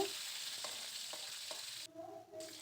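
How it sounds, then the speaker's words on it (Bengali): Pieces of rohu fish frying in hot oil give a soft, steady sizzle, with a few faint clinks and stirring sounds, quiet and without talk. "তেল গরম হয়ে যাওয়ার পর এবার মাছের পিসগুলোকে তেলের মধ্যে দিয়ে দিচ্ছি এক পিঠ হয়ে যাওয়ার পর উল্টে অপর পিঠও ভেজে নেব"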